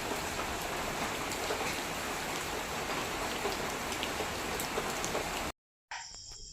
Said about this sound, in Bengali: আর দেখো বৃষ্টি এখনও কিন্তু হয়েই চলেছে